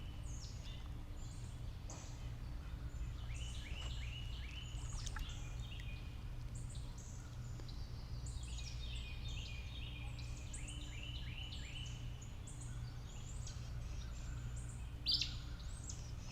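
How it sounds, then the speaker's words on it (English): Birds chirp and call in short, repeated bursts near the water, with kayaking in the background, over a steady low rumble of ambient noise. "I hear a bird."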